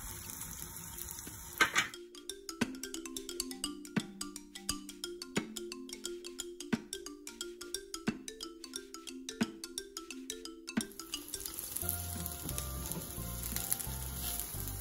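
Aloo corn tikki cutlets made with corn and potato fry in a pan to golden brown, a steady sizzle heard at the start and end with a melodic tune playing over the middle.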